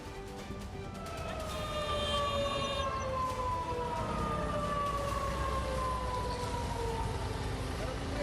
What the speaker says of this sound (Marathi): खडकवासल्यातून पाणी सोडल्यानंतर नदीपात्रात सायरन अलर्ट देण्यात आलेला आहे।